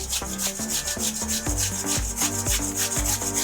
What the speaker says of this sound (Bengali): এভাবে করে গ্রেট করে নিয়ে